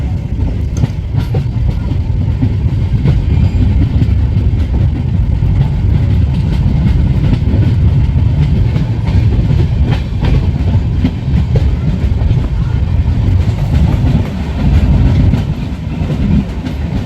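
A passenger train in India, between Kolkata and Alipurduar, standing at a station with a steady loud low rumble and faint clanks throughout, no talk.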